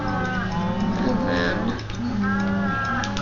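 Cattle in the video game Minecraft moo repeatedly in a farm pen, several drawn-out lowing calls overlapping at steady loudness, with a brief spoken aside mixed in.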